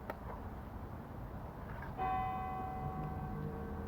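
A church bell strikes clearly near the middle of the moment, its sustained metallic ring with lingering overtones carrying through to the end over a low background rumble, in a quiet old church at five o'clock.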